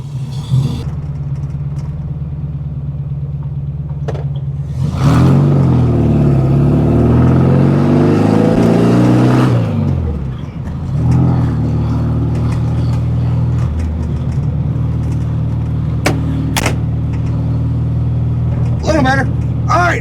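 A 1970 Volkswagen with a 1915cc engine and dual 40 carburetors drives along. A steady low engine drone swells into a loud, rising rev midway, then drops back to a rough, even running note.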